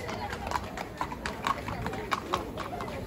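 A horse's hooves clip-clop at a horse beauty contest during a village festival in Mantamados. The steps are steady and fairly close, with a announcer's voice talking over them throughout.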